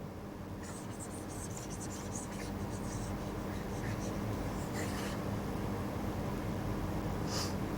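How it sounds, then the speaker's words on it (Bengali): Eraser or cloth wiping writing off a board during an online maths lesson, a steady scratchy rubbing with brief brighter swipes, fairly quiet and continuous throughout, with no talking. "তো আমি আগে এটা একটু মুছে দিচ্ছি।"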